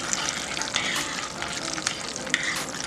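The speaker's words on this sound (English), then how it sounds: "It's already starting to sound like mac and cheese" Boxed macaroni and cheese made in the microwave being stirred, giving a close, continuous wet squelching and sizzle-like crackle with no talking.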